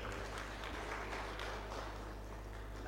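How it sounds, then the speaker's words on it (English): At a panel event, an audience gives a panelist a soft round of applause, faint and steady claps blending into a continuous patter. "welcome, Kim, with a round of applause"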